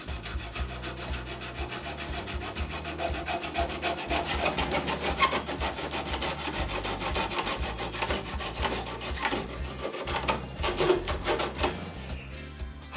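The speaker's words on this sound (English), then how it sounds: "The cable is cut by sawing along the gauge." A saw works back and forth through a 1 5/8 or 1 1/4 inch coaxial cable along a cutting gauge, producing continuous rasping strokes, close and even, with no voices.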